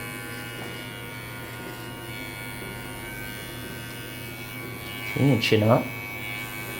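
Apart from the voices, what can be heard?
electric trimmer shaping a beard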